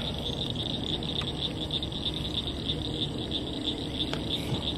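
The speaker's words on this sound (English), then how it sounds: "Hear them croaking." Steady chorus of frogs croaking outdoors, a dense continuous trill with high-pitched calling repeating throughout, moderately loud, no voices.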